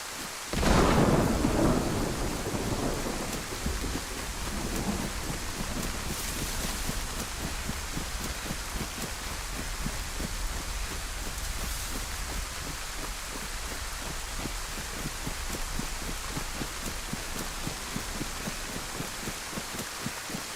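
Thunder rumbles loudly near the start of a rainstorm in the video game DayZ, on the Livonia map, then steady rain keeps falling, with more distant rumbles rolling beneath the continuous downpour.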